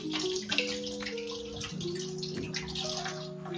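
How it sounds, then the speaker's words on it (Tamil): Hands being washed under a running kitchen tap, a steady close splash of water that holds through the whole moment, with a faint tonal hum underneath. "இன்னொரு கை கழுவி."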